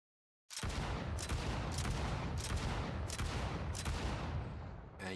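Shotgun firing in an Unreal Engine 5 Call of Duty Zombies style game, six loud booming blasts in steady succession with no gaps of silence, each shot ringing into the next.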